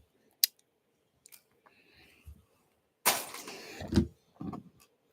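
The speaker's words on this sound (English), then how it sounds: "So let me go ahead and snip you." A part of a Gundam RX-78-2 model kit is snipped from its plastic runner with nippers, giving a few quiet ticks followed by a louder cluster of close crisp cutting snaps.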